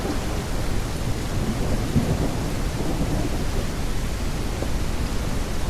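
Steady thunder rumbles under heavy rain during a storm in the Detective Rainy Night video game, a dense, continuous wash of low roaring noise with no talking.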